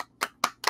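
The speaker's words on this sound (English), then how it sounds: "Okay, that's enough clapping." Three sharp, close hand claps in a quick even rhythm during a podcast recording, crisp and isolated with no talk over them.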